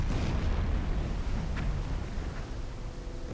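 In the submarine game Silent Hunter 4, a torpedo strikes a ship and sets off a distant, muffled explosion with a low rumbling roar that slowly fades.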